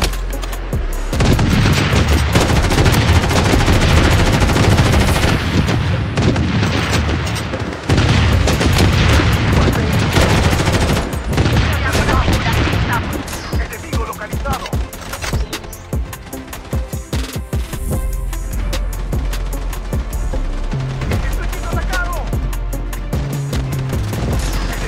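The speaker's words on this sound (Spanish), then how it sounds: "Solicita un bombardeo aéreo." Loud, continuous gunfire and heavy booms from an air strike bombardment in the Blood Strike video game fill the whole stretch, with dense rattling bursts layered over deep rumbling explosions.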